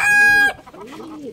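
A hen gives a short, sharp, bright cluck or squawk close by, then stops abruptly and leaves a softer low murmur behind, all within about a second.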